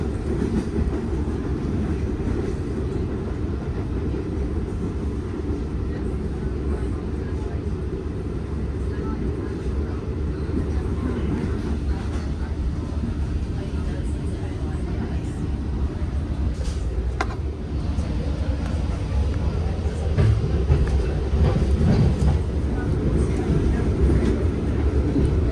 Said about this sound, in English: Here we see the New York and Atlantic RS60 working the main line.